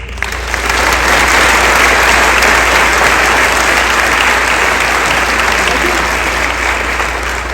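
A crowd at a 2024 senior recognition ceremony applauds graduating seniors with loud, continuous, tightly packed clapping that stays even throughout.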